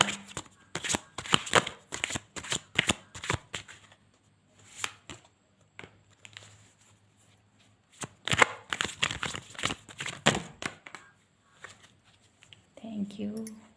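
A deck of tarot cards being shuffled in repeated riffling bursts, crisp and close, with pauses between rounds and faint background hum.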